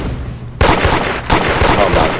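Video game gunfire, two loud close bursts of rapid shots about a second apart, with faint room noise before the first.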